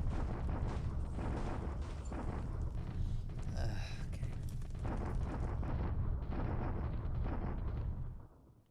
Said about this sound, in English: another bombardment